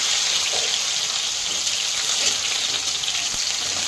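Onion sizzling in hot oil after garlic has browned, a steady, dense crackling hiss running continuously at close range with no voices.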